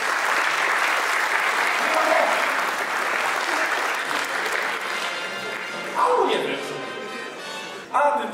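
An audience applauds steadily for several seconds at a jubilee gala of a regional football association, a dense, even clapping that fades toward the end, with a voice briefly heard over it.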